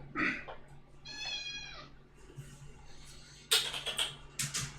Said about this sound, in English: I'm not harassing the cat.